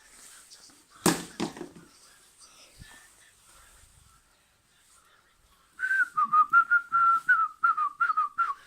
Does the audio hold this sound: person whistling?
yes